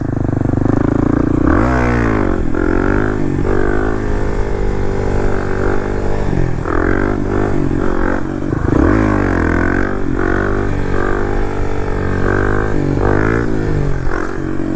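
Kawasaki KLX300 dirt bike ridden hard on a muddy trail, its single-cylinder engine repeatedly revving up and dropping back in quick, loud bursts close to the rider, with a brief voice and wind noise mixed in.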